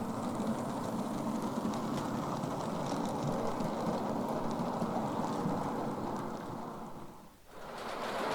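A model train pulling away on a layout of Little Bytham, a steady rumbling roll of wheels on track with a brief dip before the running noise resumes.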